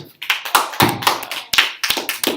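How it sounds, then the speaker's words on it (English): A small group of students claps for a classmate in a classroom, giving a short burst of distinct, unsynchronized hand claps close by, with no talking. "Every give her a round of applause"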